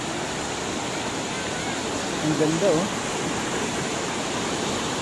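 Strong rushing water roars as a loud, constant broadband wash, with a brief voice speaking over it near the middle.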